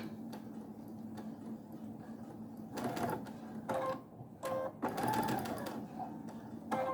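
A sewing machine stitching slippery, silky fabric along stripe lines at about a 3mm stitch length, a soft steady whir that stops and starts, with quiet handling noises in between.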